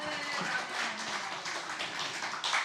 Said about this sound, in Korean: 하나님께 박수 연드리겠습니다